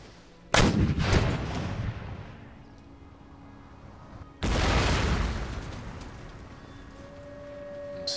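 Artillery and musket volley fire in the video game Empire Total War, two loud booming volleys a few seconds apart, each decaying into a long rumbling tail.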